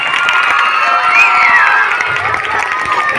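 A school audience at a Teachers' Day gathering cheers and claps loudly for their teacher, a dense continuous crowd roar with shouting voices throughout.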